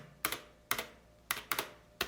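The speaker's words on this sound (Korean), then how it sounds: "백스페이스 요거 같은 경우에는" Sharp clacks from the backspace key of a Philips G614 mechanical keyboard, five crisp keystrokes at uneven intervals, close and clear in a quiet room.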